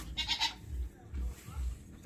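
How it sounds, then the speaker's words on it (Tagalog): Goats at a farm feeding and watering time bleat several times in quick succession, close and clear, with a deep rumbling background between calls. "Magpainom tayo ng kambing!"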